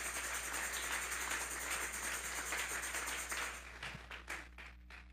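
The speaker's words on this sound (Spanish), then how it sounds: "Denle un fuerte aplauso pues al Señor." A church congregation claps in steady, dense applause that holds for a few seconds, then thins out into a handful of last scattered claps before fading.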